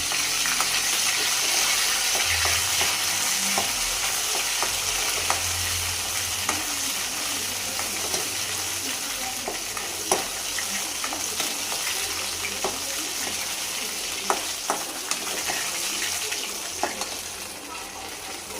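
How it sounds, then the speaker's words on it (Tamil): Garlic sautés in a pan for white sauce pasta with a loud, continuous sizzle and scattered crackles and stirring scrapes over the whole stretch. "பூண்டு சேர்த்து நல்லா வதக்கிக்கோங்க."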